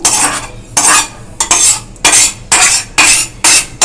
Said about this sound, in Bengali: দেখুন এই জায়গাটায় আমি মশলাটা শিফট করে নিলাম।